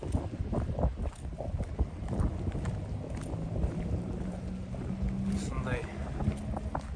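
Wind gusting on an island, a steady broadband rush with microphone buffeting running the whole time, alongside distant activity, occasional knocks and faint voices in the background.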